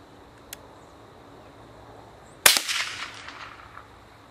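A single sharp rifle shot rings out while a gun is sighted in outdoors, loud and sudden, followed by a short echoing decay; a faint click comes just before it.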